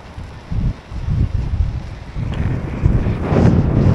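Wind buffeting the microphone while riding a cheap old bicycle down a steep hill on a country road, loud gusty rumbles rising and falling without pause, no talking.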